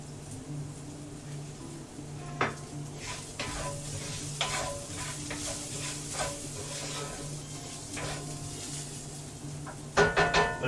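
Mushrooms and garlic fry in a pan under a soft, steady sizzle, while a utensil scrapes and stirs them in repeated short strokes, with a louder burst of scraping near the end and no talk.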